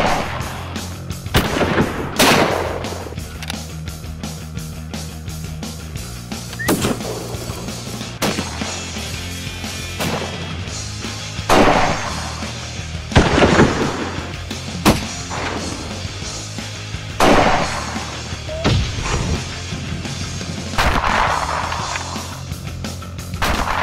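Gunfire from a boar hunt: several loud, sharp shots, some single and some in quick pairs, scattered across the clip over rustling outdoor background noise.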